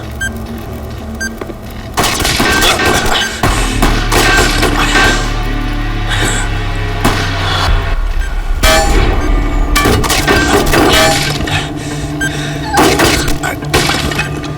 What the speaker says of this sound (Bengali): কোথা থেকে গুলি চালাচ্ছে?